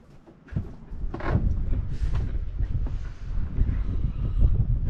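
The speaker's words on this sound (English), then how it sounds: "as you can tell, it's still quite windy" Strong wind on a rolling sailboat buffets the microphone with a low, gusty roar that rises after a brief quiet start and stays loud throughout.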